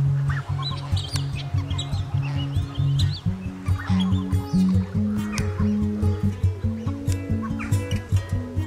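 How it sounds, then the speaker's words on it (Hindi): A group of whistling ducks at the WWT Slimbridge wetland centre in England calls in a busy chorus of short chattering and whistled notes, fairly close and continuous. "और ये है विस्लिंग डक्स,"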